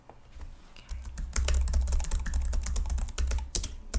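Rapid clicking of fingers typing on a computer keyboard, an uneven burst of close keystrokes with brief pauses, softly recorded and alone.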